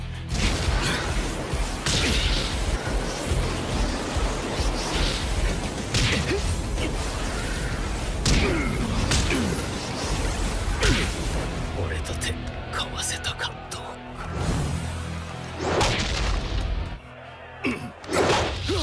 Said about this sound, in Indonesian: dia terus menghujani Hatsumi dengan lengannya yang panjang, yang mampu menciptakan ledakan